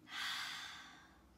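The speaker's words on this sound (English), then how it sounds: "Let's take our three slow breaths" A single slow breath, part of a paced breathing exercise in a children's yoga class, sounds as a soft airy exhale that swells and then fades gently, close and quiet with no talking.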